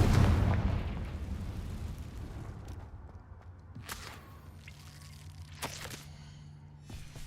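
A Confringo blasting spell goes off in Hogwarts Legacy as a loud, booming explosion that rumbles and fades over several seconds, followed by a few sharper cracks and impacts further off.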